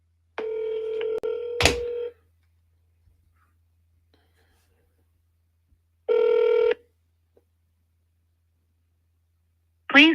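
An outgoing phone call rings back in the earpiece: two separate ring tones, each about a second and a half long and spaced a few seconds apart, clear against near-silence, with a short blip at the end.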